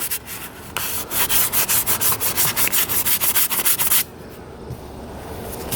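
Hardened filler on a jet boat hull is hand-sanded in quick, regular back-and-forth strokes, a scratchy rhythmic rasp heard up close that runs for about three seconds and then stops, leaving quiet room noise.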